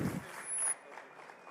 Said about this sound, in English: very big round of applause then for our first startup